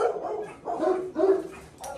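A Great Dane barks indoors, four deep, loud barks close by, spaced at a slow, even rhythm.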